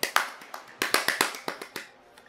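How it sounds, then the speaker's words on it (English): About a dozen sharp claps from the music of the video game The Legend of Zelda: The Wind Waker ring out in an uneven rhythm over a quiet background, fading toward the end. "There's a clapping part in there."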